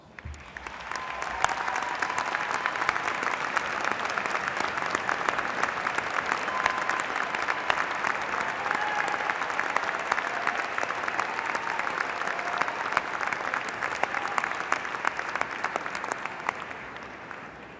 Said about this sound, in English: Families and loved ones, please rise so that we can give you a round of applause.